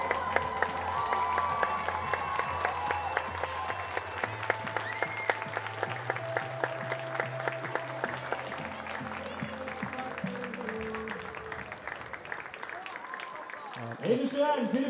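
A stadium crowd at a youth football tournament claps and cheers steadily, dense applause running throughout with a commentator talking over it, swelling slightly near the end.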